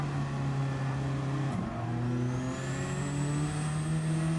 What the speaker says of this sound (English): We can hear the short shifting going on.